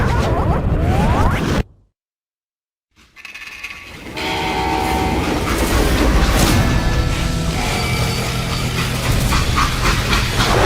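A freight train in the Western shooter Call of Juarez Gunslinger, loud mechanical clanking and grinding before a brief silence, then a rumbling rolling train with ratcheting metal noise and a horn-like tone.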